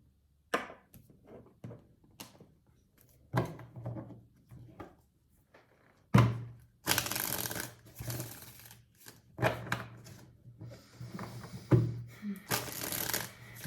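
A deck of tarot cards being shuffled in several separate bursts of quick riffling and flapping, close up, with quiet pauses between the bursts.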